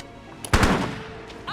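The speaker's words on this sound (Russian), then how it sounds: "Двойной выстрел." Gunfire in the video game The Council, a loud, close shot in which two rapid reports blur together, followed by a short fading tail.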